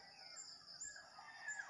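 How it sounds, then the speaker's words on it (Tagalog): Faint birdsong from a distance: a few thin, high chirps and whistles over a quiet outdoor background, with no talking. "Yung huni ng ibon, iba-ibang huni."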